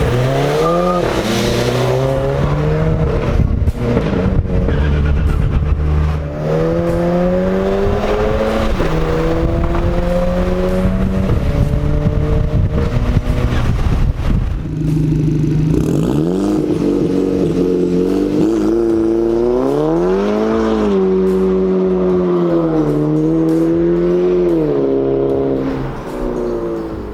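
A VW Golf 5 GTI fitted with a Golf 6R turbo accelerates hard through the gears, its engine note climbing and dropping with each shift. Loud and close throughout, with a brief lift around the middle before it pulls again.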